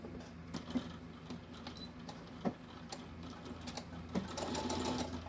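A sewing machine stitches a keyring lanyard in short starts and stops, its rapid mechanical patter close by, with small knocks and a denser run of stitching at the end.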